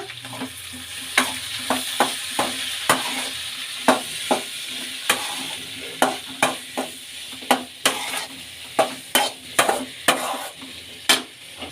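A spoon stirs boiled potatoes with salt and turmeric in a pan, scraping and clinking in a fairly regular series of sharp strokes over a soft sizzle, close and loud, with no voices.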